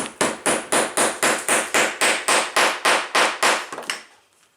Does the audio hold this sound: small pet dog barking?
no